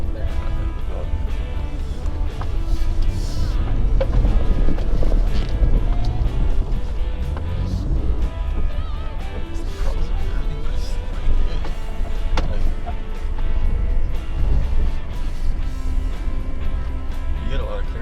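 A 2020 Jeep Gladiator Overland Edition climbing a steep off-road slope, its engine a steady low rumble with wind buffeting and occasional knocks from the rough ground.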